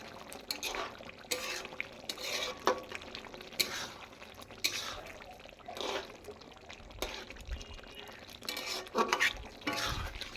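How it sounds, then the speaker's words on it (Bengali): Chicken curry with garam masala is stirred in a pan, producing faint, uneven scraping and wet, squelching strokes at an irregular pace, close but quiet. "এটাকে ভালো করে একটুখানি নেড়ে চেড়ে নেব"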